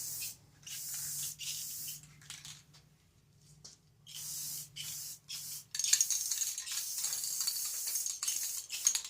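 Aerosol spray paint hisses onto a frame being coated silver metallic, coming in several separate close bursts with short pauses between, then a longer continuous stretch toward the end.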